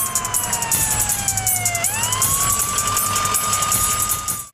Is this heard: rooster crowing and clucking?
no